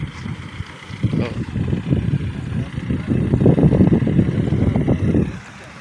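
A tractor laser-levelling a farm field gives off a steady, low engine rumble that swells and falls over several seconds, mixed with gusts of wind buffeting the microphone.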